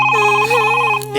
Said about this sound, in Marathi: फोन येतोय, कोणाकडनं तरी बोलतोय.